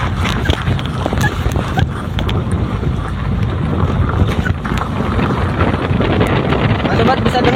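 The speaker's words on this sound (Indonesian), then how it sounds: "Kalau gluduk-gluduk sih dari kerikil, kalau saya buka kacanya dari kerikil." Front wheel of a newer Toyota Calya with a fault rumbling over gravel and rocky road, a steady loud low rumble with clattering of stones and road noise throughout, heard from inside the car with the window open.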